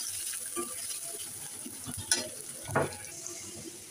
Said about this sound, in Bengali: এটাকে বাগার দেওয়ার জন্য আমি এদিকে রসুন পেঁয়াজ ভেজে নিচ্ছি